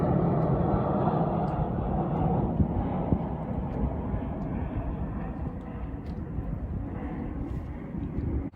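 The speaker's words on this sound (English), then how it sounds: "There's a plane coming up." A plane passes overhead outdoors on a cold day in Texas, its engine drone a steady broadband rumble that slowly fades as it moves off, loud at first and then gradually weaker.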